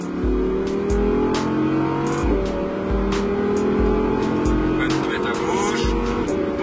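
Audi R8 RWS at full throttle on the Paul Ricard circuit at Le Castellet, a loud engine roar climbing in pitch through repeated upshifts, heard from inside the car with a voice talking over it.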